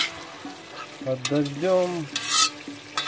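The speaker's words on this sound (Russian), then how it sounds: "Хорошенько все жарится." Vegetables for Uzbek dimlama fry outdoors in a pot and are stirred, with a continuous sizzle and scraping stir sounds while someone talks over them.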